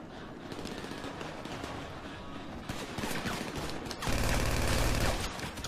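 Automatic gunfire from GTA Online fills the clip in a dense, continuous rattle of rapid bursts that grows louder and heavier toward the end, with no speech over it.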